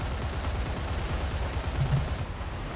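Twin 23mm nose cannons of an IL-28 jet bomber strafing anti-aircraft guns in War Thunder, a dense, continuous rattle of rapid fire over jet roar, cutting off sharply near the end.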